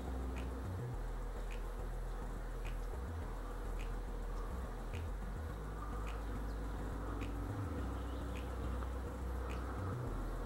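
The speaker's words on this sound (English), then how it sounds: "a bit of bees flying for how cruddy our day is" Faint buzzing of honey bees flying around a hive on an overcast day, a soft continuous drone with low rumbling background and no talking.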